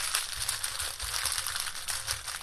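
Plastic packaging of a diamond painting kit crinkles and rustles continuously up close, a steady crackling handling noise with no pauses.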